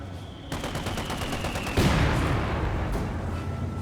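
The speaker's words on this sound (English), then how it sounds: "Taking fire!" Gunfire in the Company of Heroes 2 video game, a rattling burst of rapid shots followed by a heavier blast, set against a steady battlefield rumble.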